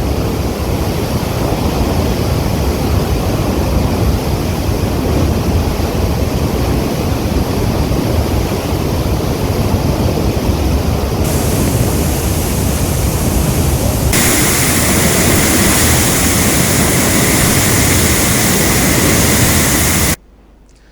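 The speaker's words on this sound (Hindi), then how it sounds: "आज कई नहरों के ऊपर से पानी गुजर रहा था" Floodwater pours over canals in Hyderabad after heavy Cyclone Gulab rains, a loud, unbroken roaring rush of water with no voices, cutting off abruptly at the end.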